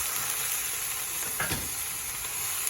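Vegetables for a cheesy burger bake frying and browning in a pan, a steady dense sizzle with hiss that stays constant throughout, close up with a brief stir partway through and no talk.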